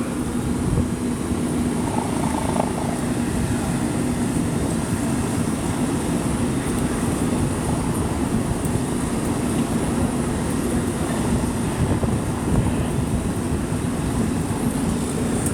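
Steady, dense rotor-and-engine roar of helicopters overhead at a building fire at San Vicente Plaza, filling the whole stretch at constant loudness, a continuous mechanical drone.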